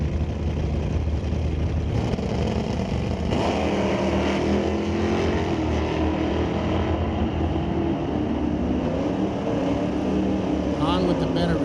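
Drag racing hot rods, an automatic Cuda and a 1972 C-Stock automatic Corvette, launching at an NHRA strip; a steady loud engine roar fills the whole stretch while an announcer talks over it.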